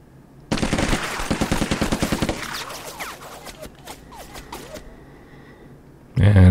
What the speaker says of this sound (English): now we can fire on them